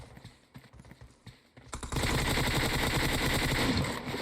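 Automatic gunfire in PUBG Mobile, starting with scattered sparse shots and then bursting into a dense, loud, continuous barrage of rapid fire that carries on to the end.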